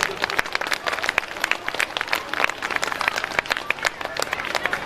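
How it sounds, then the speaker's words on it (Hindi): Dense applause from an audience at a school annual function in Khunti, a steady wash of many hands clapping throughout, fairly close and continuous with no pauses. "तालियां बजती रहनी चाहिए देवी और सज्जनों"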